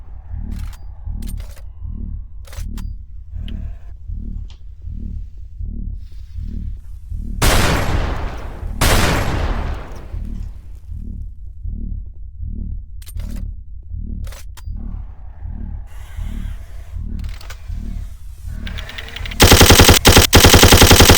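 Imps in a Doom 3 mod fire rapid bursts of machine-gun fire, a steady loud stream of repeated shots with two heavy booming blasts partway through and a harsh burst of noise at the end.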